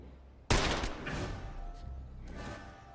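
A gunshot in the stealth strategy video game The Lamp: one sharp loud blast that decays into a rumbling tail over a quiet background, with no talk.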